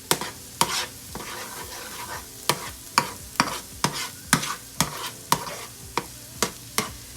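An egg is whisked and scrambled in hot oil in a pot, with a steady series of sharp utensil taps against the pan over a soft sizzle, close and clear with no talking.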